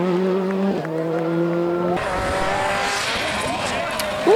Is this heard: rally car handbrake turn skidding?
yes